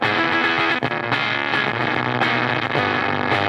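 Guitar run through a distortion pedal starved of voltage, dropped from 9 volts to about 1: a dense, loud, sputtering fuzz that holds steady with brief gated dropouts and breaks, no talk.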